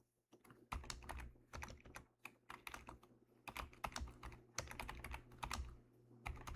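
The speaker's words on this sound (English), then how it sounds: "I know you hear me clicky tapping" A clicky computer keyboard typed on in quick bursts, with close, crisp keystrokes and short pauses between runs.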